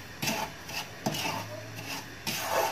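A spoon stirs semolina roasting in a pan for sooji halwa, close scraping and rubbing strokes that come in irregular passes with short pauses between them, with no talking.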